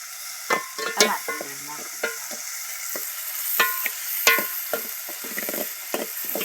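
Tempering (vaghar) for kesariya pak sizzling in a pan at home, a steady hiss with several sharp clattering stirs and metallic scrapes, close and fairly loud.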